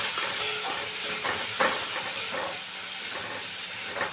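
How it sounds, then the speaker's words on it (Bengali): Ginger dropped into tomatoes frying in a pan for a vegetarian potato dish, a moderate steady sizzle with a few soft taps and stirring scrapes, no speech. "তো আমি আদাটা দিয়ে দিলাম।"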